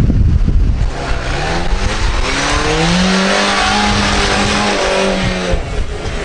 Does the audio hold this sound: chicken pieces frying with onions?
no